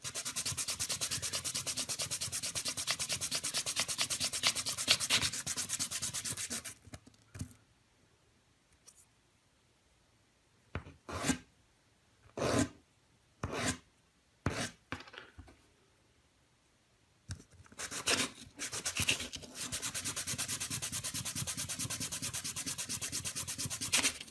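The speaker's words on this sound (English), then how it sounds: "so I'm just going to use some 220 grit" A small wooden fidget spinner button is hand sanded with 220 grit sandpaper along the grain. Continuous rasping rubs open and close the stretch, with a quiet middle broken by a handful of short, separate scraping strokes, all close up and without speech.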